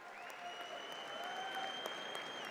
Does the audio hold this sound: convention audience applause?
yes